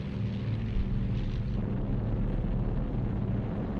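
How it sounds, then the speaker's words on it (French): German WWII warplanes in combat over Russia produce a loud, continuous engine drone and roar, steady throughout with a dense rumbling low end. "Dans le ciel russe, les avions allemands combattent à 1 contre 5."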